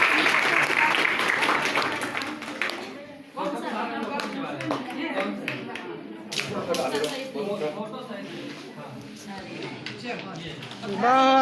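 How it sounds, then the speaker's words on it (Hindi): Audience applause at a college programme in Jaysinghnagar on the concept of Ram Rajya, a steady patter of clapping from a hall full of people that swells again near the end, with a voice speaking over it throughout. "तालियां बजती रहे कम से कम आप लोग थोड़ा सा।"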